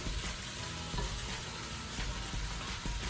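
Day-old white rice hits a hot pan of scrambled eggs for fried rice, raising a steady, close hissing sizzle with soft crackles and faint clinks, quiet overall and without talk.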